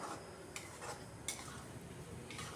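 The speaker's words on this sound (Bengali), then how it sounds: "এটা দিয়েও আরও কিছুক্ষণ কষিয়ে নিচ্ছি" Chicken gravy masala with four whole onions being stirred and sautéed in a pan, a spoon scraping and tapping the metal now and then over a soft, steady sizzle, close and fairly quiet.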